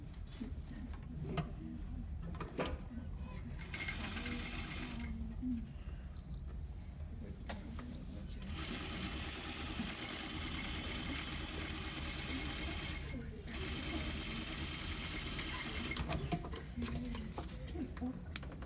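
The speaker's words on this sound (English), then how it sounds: "before I sew my next seam, I'm going to sew on my godet first at 1/2 inch, matching it up with the notch" A sewing machine stitching a godet into a skirt seam at 1/2 inch, a steady, close mechanical whirring in long runs with brief pauses, with talk over parts of it.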